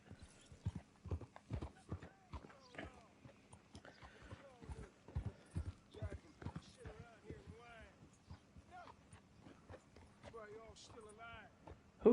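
Horse hooves clip-clop at a walking pace in Red Dead Redemption II, fairly quiet, regular thuds, mixed with short bursts of game character speech throughout.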